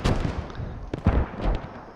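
Mortar shells landing danger close in a multiplayer video game match, a series of dull thumping blasts and muffled booms over a rumbling battle background.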